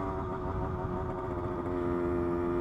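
Steady two-stroke engine drone from a 1972 Yamaha L 100cc motorcycle, a lightweight bike geared very low, heard while riding; a continuous, fairly loud buzzing hum with stable pitch and no talk.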